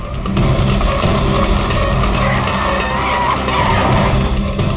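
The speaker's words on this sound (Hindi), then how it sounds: "पंकज सर, कोई अच्छी जगह पे गाड़ी रोको" Car tires skidding hard to a stop on a road during a crime-drama chase, a loud sustained screech with engine noise, no talk over it.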